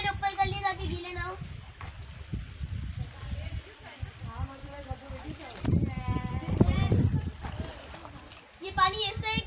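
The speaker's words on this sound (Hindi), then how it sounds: "यहाँ पे पानी में हाथ में पांव डाल रहे हैं।" Feet and hands dip and splash in water at Sehwan Sharif in Sindh, giving scattered, close sloshing bursts that run under nearly continuous talking voices.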